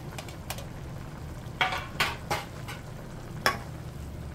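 Dinuguan, a Filipino pork blood stew with chili peppers, cooks in a pot: close, scattered scraping and clinking from stirring rise above a steady low simmering, sizzling bed of sound.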